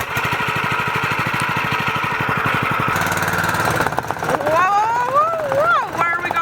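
A ground preparation machine's engine clatters loudly and rhythmically at close range, then revs with rising and falling whines as it gets going, with a person speaking over it.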